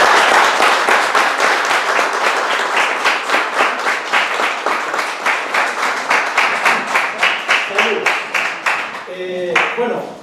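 An audience at a book launch gives loud, sustained applause. Dense clapping rolls on steadily and fades toward the end, and a few voices rise briefly as it dies down.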